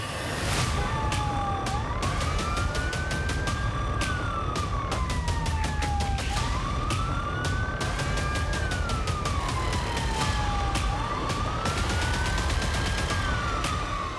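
Police car siren wailing continuously and loudly up close, cycling through rising and falling tones with a rapid pulsing yelp pattern over engine rumble during a motorway stop.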